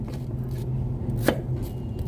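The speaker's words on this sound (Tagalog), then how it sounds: "introducing the apple. Just slice into pieces." A knife slices an apple into pieces on a cutting board, giving a single soft cut against a steady low background hum.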